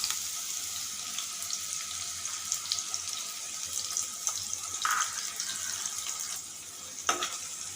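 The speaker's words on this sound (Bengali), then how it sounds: "তেল গরম হওয়ার পর আমি দিয়ে দিচ্ছি কুচানো পেঁয়াজ।" About half a cup of chopped onions fries in hot oil as the base for a prawn and kakrol curry: a steady, close hiss of sizzling with a few brief clinks and stirring clatters.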